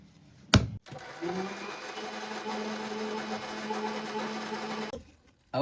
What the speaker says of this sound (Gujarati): હવે આપણે મિક્સરમાં ઘૂમરો મારવાનો છે.